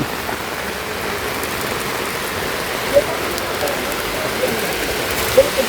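Rain falls steadily as a broad, even hiss close by. A couple of faint clicks stand out above it.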